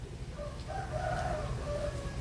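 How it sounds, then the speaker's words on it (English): A rooster crows once or twice at a distance, faint and drawn out, over a low steady background hum with no talk. "The fucking cockadoodle doing in the background."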